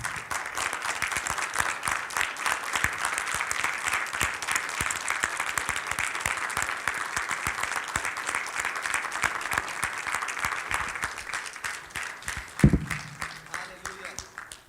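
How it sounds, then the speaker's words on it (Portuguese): Sustained applause from a church congregation, steady and dense, with a sharp thump near the end as it fades. "vamos dar uma salva de palmas para Deus, para o Senhor Jesus."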